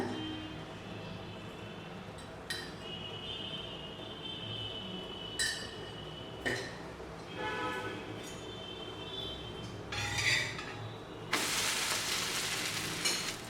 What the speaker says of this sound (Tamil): இப்போ மேல் பக்கமும் நல்லா வெந்துருச்சு எண்ணெய் கொஞ்சம் மேலே ஊற்றிக்கோங்க